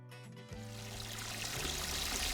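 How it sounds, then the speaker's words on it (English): Rainwater pours into a stock tank hot tub as a steady, rising rush of water, starting after a short pause and growing fuller and louder. "So we're finally filling the tub with water."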